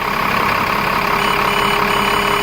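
Diesel engine of a 2003 New Flyer bus with a charging fault idling close by, a loud, steady rumble with a mechanical drone and slight shifts in engine speed, no voices.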